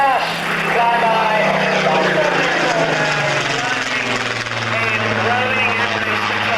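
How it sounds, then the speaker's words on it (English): At an air pageant, an aircraft makes a fast flyby, its engine roar swelling and sliding in pitch as it passes, loud and continuous beneath a commentator speaking over a public address. "moving in from your right, a fast flyby"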